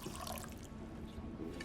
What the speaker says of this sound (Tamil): தண்ணி ஊத்துறா.